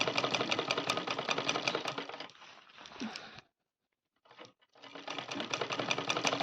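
A sewing machine stitches Rajputi poshak kachali fabric in fast, rapid-fire bursts of needle clatter, pausing briefly into near silence before resuming, close and clear with no talk.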